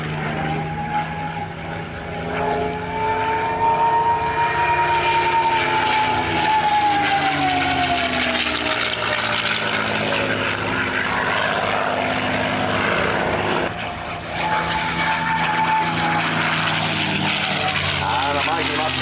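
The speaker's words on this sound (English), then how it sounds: "And the mighty Mustang passes again." A P-51 Mustang makes a pass at the 2004 Chailey airshow: a loud, sustained propeller-engine roar whose pitch bends as it sweeps by, swells again near the end, and carries a voice over it.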